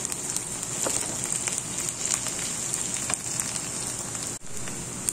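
Chopped ginger and onion sauté in a pan for a Kerala-style squid roast, giving a steady close sizzle scattered with small crackles and pops and no talking.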